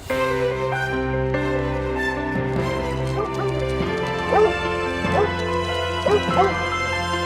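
Dogs at play in a tribute gathering for the hero dogs of 9/11, with short barks, yips and whimpers over a steady music bed and low background noise.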